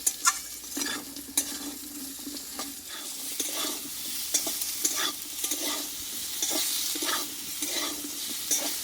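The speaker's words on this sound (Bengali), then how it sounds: "খুব অল্প তেলে কিন্তু পটলটাই ভালোভাবে কষিয়ে নেবো" Pointed gourd (potol) fries slowly in a little oil, a close steady sizzle broken by repeated scraping strokes of a spatula stirring the pan.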